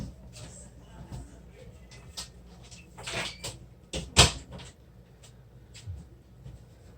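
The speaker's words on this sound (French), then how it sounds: "Je vais fermer ma porte parce que mes enfants font du bruit." A single sharp knock of a door shutting up close, set amid soft shuffling and faint household movement.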